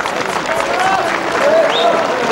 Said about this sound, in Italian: vi invito a fare un applauso